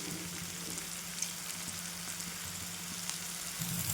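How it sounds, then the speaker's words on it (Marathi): Curry leaves, green chillies and onion fry in oil for a bitter gourd dish, producing a faint, even sizzle with occasional tiny crackles, quiet and steady throughout. "आता याच्यामध्ये आपल्याला कढीपत्ता आणि हिरवी मिरची टाकून घ्यायची"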